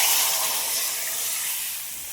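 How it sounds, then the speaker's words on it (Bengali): Water poured into a hot pan of spiced cucumber, potato and katla fish curry gives a loud, close hiss of steam that fades gradually, with no voices. "এবার পরিমাণ মতন জল দিয়ে দিচ্ছি।"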